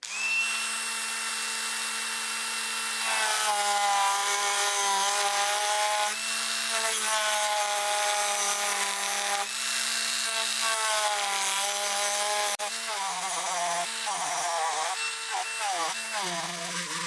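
A saw cuts along a drawn centre line through a wooden fishing lure body, producing a loud, continuous rasping drone in repeated strokes that changes character toward the end.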